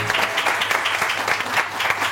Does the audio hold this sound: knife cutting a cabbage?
no